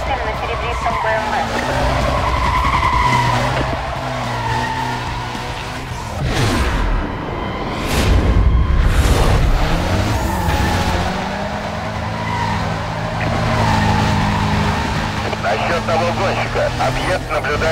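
A silver BMW races in Need for Speed: Most Wanted (2005), its engine roaring and tires squealing through loud skids, while police radio chatter runs over the driving.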